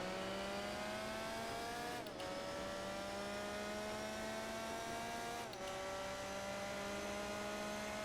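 A race car launching from the start in Gran Turismo 4, its engine droning steadily with rising pitch and two quick gear shifts, heard continuously without speech.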